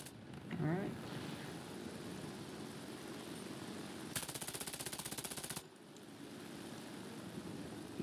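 A biplane's machine gun in War Thunder fires one continuous rattling burst lasting over a second over a steady engine drone, fairly faint overall, with a few softer shots earlier.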